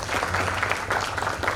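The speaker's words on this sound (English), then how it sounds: "a big round of applause to Dr. Aruna." Audience applause follows a conference presentation at a session of CRISP 2025, a dense, steady patter of many hands clapping in a hall, moderately loud throughout the short burst.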